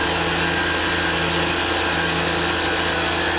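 A Tormach PCNC 1100 milling aluminum on a finish pass at 3,000 RPM and 20 inches per minute, a steady, close whine of the cutting spindle holding level throughout with no voices.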